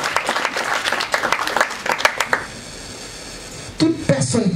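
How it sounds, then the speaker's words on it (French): A small audience gives a brief burst of scattered clapping that fades out, followed by a short pause and a few more claps, all fairly close and moderately loud. "Applaudissez parce qu'il est mauvais."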